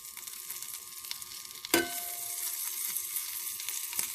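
Keto codfish cakes fry in butter in a pan, a steady bright sizzle throughout with a sharper crackle as something is stirred or moved, close up and without speech.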